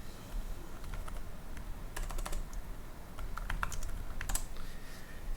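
Someone types on a computer keyboard, with quick bursts of light, close key clicks over a steady low hum.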